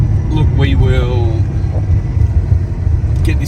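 An MPW twin-turbo VF street car with a sequential shifter rumbles low and steady while rolling in second gear, close and loud, with someone talking over the engine at the start.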